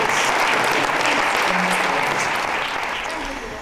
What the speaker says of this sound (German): an der Stelle wäre ein animierender Applaus sehr charmant